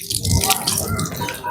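Water runs steadily from a tap during handwashing, a continuous splashing hiss with faint voices in the background.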